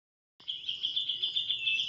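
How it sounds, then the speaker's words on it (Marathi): Morning birdsong in a misty Konkan village, starting after a brief silence as a continuous high twittering trill, moderately near and steady with no voices. "सकाळ आहे ना, पक्ष्यांचा किलबिलाट ऐकायला येते सगळीकडे"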